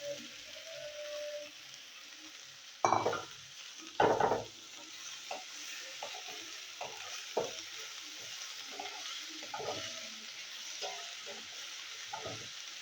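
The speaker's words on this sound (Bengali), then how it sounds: "ওই তেলে আমি উচ্ছেগুলো ভাজবো।" Bitter gourd frying in hot oil with green chilli, a faint sizzle with several sharp stirring scrapes and clatters in the pan, close by.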